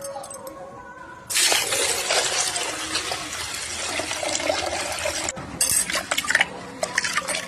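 Rice grains being washed by hand in water before going into a rice cooker, a sudden onset of loud swishing, rattling and sloshing that continues with scraping grains against the vessel.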